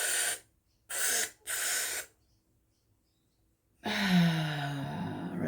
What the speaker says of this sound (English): imagine that straw is in your mouth and we're breathing in through the straw